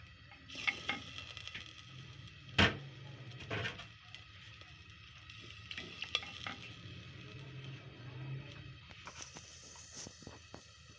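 Chicken with yogurt sizzles and fries in a karahi, a quiet steady crackle broken by scraping stirs and a sharp metallic clank from the spoon against the pan.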